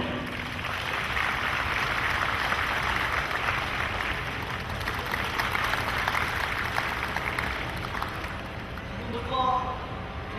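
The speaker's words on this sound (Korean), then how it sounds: "우리 무총재님을 박수로 맞아주십시오." Audience at a taekkyeon tournament opening ceremony applauding to welcome a speaker, a broad, steady wash of clapping that carries on for about ten seconds, with faint murmur and a brief tone late on.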